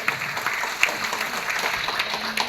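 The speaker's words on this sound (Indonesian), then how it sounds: "Tepuk tangannya Bapak Ibu." A crowd at an event in the Merapi Merbabu Hotel in Yogyakarta claps in a brief, steady burst of applause. Many hands patter evenly at moderate loudness, with faint voices mixed underneath.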